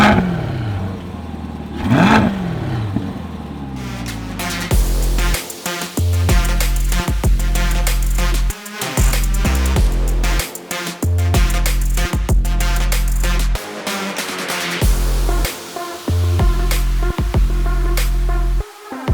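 A new Chevrolet C8 mid-engine Corvette moving around, its exhaust rising and falling in loud revs with clattering bursts and short drops to near silence, heard fairly close with no talk.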